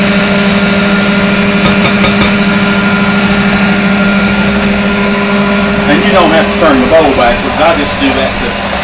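Sunbeam Mixmaster stand mixer beating pound cake batter, a steady loud motor whir with a constant hum running throughout, near and continuous, with a voice talking over it.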